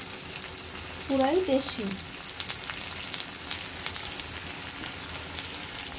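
Prawns fry with cauliflower in a pan, giving a steady, dense sizzle throughout. A person speaks briefly near the start over the frying.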